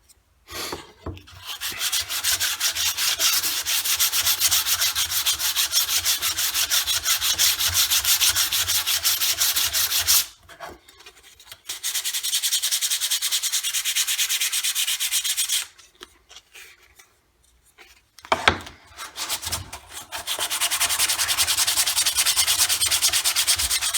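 A large wooden knife being sanded by hand gives off long, steady, rasping strokes in several loud runs, split by short pauses, with no talking.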